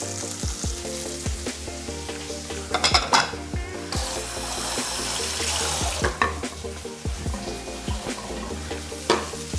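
Sun-dried tomatoes tossed with salami in a hot pan: a loud, close sizzle broken by repeated scraping and clattering stirs, with a burst of sputtering frying near the middle.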